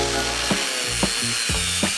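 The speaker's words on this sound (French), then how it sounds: "nous pouvons découper la grille en métal déployé" Expanded metal grid being cut with a power tool for a homemade coffee table, a steady harsh whine broken by four brief bursts of cutting noise, close and alone.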